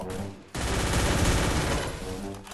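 Rapid automatic gunfire from a Free Fire match bursts in after a brief quiet start, a dense continuous volley of shots that stays loud and close for about two seconds before easing off.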